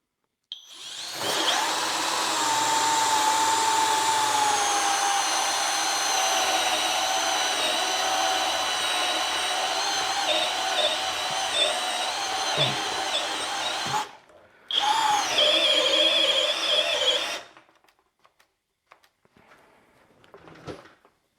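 A Kobalt 24V Gen 3 drill bores into 2x pressure-treated wood with a loud, sustained whirring grind, pausing briefly and then running again for a few seconds before stopping.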